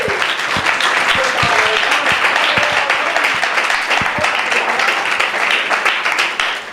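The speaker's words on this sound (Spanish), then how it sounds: "Dale un aplauso al Rey, iglesia" A church congregation applauds loudly and steadily, dense clapping with occasional sharper claps throughout, with faint voices mixed in.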